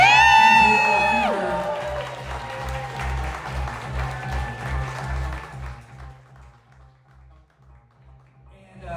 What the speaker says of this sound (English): How about a big round of applause for tonight's DJ?